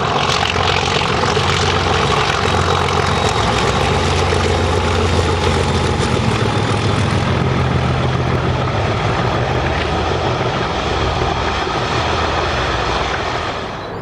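A pair of British Class 37 diesel locomotives, 409 and 423, hauling an Inverness to Carlisle train, a loud sustained engine roar and drone from close by, holding steady before easing slightly at the end.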